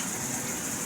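A HammerHead dual shower head runs in 8-inch rainfall mode, giving a steady, even hiss of falling water that holds level and fairly soft throughout the short stretch.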